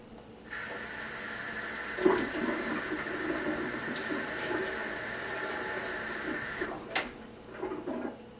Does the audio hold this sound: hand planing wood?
no